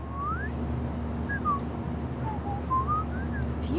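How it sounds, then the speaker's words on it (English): A character in the video game Life is Strange Remastered whistles a slow, wandering tune of short sliding notes, clear and close, over a steady low background hum, with no talk. "Do you mind not whistling?"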